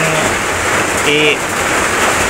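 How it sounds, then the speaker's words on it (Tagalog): Steady, loud rain pours down in a dense, even hiss that fills the whole stretch, with faint tonal sounds briefly rising above it. "sinsya na kayo sa ingay kasi umulan"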